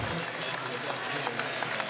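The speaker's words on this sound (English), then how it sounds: "a nice round of applause for the Arizona State transfer" Crowd applause fills a basketball arena during a Charleston Southern at NC State men's game, a steady broad wash of clapping with scattered sharper claps throughout, fairly distant and continuous.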